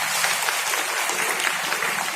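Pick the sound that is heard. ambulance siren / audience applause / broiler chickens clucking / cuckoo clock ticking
audience applause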